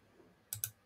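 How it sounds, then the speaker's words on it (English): Two quick, faint mouse clicks land close together on a quiet computer, the kind made pressing a save button. "I click on save"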